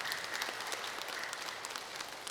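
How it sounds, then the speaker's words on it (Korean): Congregation applauding in a church during a Sunday service, steady dense clapping from many hands filling the room at an even level throughout, with no talk over it. "이럴 때는 박수를 쳐야 돼,"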